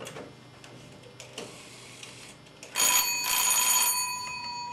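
A telephone bell rings in loud bursts near the end, after a quieter stretch of faint ticking and clicking, with no voices.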